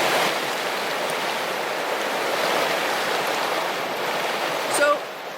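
Creek water flows and rushes steadily throughout, a broad continuous wash heard during a cold-water immersion, with a brief louder splash near the end.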